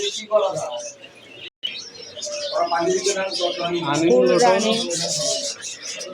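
Pigeons coo and chirp throughout at moderate loudness in a large pigeon and bird shop in Gaibandha, Bangladesh, with someone talking over the birds for most of the stretch.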